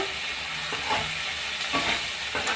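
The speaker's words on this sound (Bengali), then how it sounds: "তো আমি আর একটু নাড়াচাড়া করে নিচ্ছি" A spoon stirs tomato paste through a Bengali chanda fish curry in a pan, giving a steady sizzle with scraping strokes at regular intervals, close and alone.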